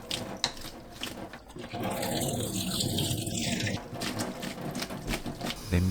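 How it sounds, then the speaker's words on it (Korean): Steady rush of hot running water from a tap, with sliced fish cake being rinsed under the stream, continuous and close for several seconds. "뜨거운 물에 헹굽니다."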